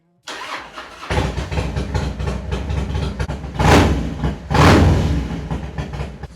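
A motorcycle engine fitted with an aftermarket Amazon carburetor, choke fully open, catches and starts, then runs with a steady rough idle broken by two loud swelling revs, close and alone.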